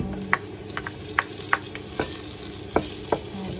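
Onion sautéing in a pan for ginisang monggo with pork bones, a soft sizzle under roughly ten irregular, sharp spoon taps and scrapes against the pan.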